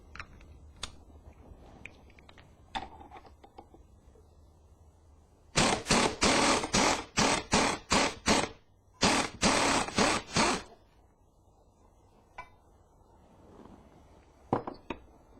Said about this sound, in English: Now, for the sake of time, I'm going to use my impact wrench.